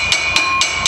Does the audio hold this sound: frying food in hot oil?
no